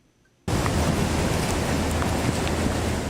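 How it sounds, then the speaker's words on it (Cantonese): Heavy rainstorm over the Texas hill country in southern Texas during deadly flash flooding, heard as a dense, steady roar of downpour that starts abruptly and holds loud and unbroken. "暴雨持續侵襲德州丘陵地區"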